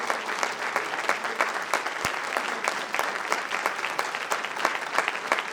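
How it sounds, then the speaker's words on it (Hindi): Sustained clapping from a theatre audience honouring the playwright after a drama staged at NCZCC, an even, steady wash of many hands with sharper individual claps standing out, no talking over it. "जोरदार तालियां आलोक नायर के लिए।"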